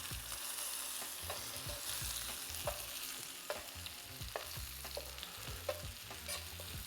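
A salmon fillet fries in a pan after being flipped, a soft, steady close sizzle with occasional small crackles and pops, fairly quiet and with no talking.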